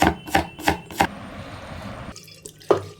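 A knife chops banana flower in four quick, evenly spaced thuds up close, followed by a pause and then the splash and trickle of water as the pieces are rinsed.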